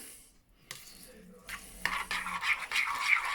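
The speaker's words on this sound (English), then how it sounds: "Just stir it in." A spoon stirs olive oil into a bowl of herb mixture with parsley, giving soft scraping and clinking strokes that start faint and grow busier toward the end, close up and without talk.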